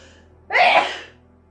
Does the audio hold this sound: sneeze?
yes